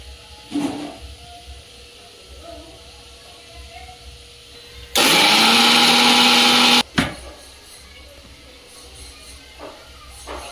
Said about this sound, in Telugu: ఆ పేస్ట్ ఇట్లా మిక్సీ పట్టేసుకున్నాము, ఆనియన్స్ ఫ్రై చేసినవి, ఇంకా ఎండుమిర్చి అన్నీ కలిపి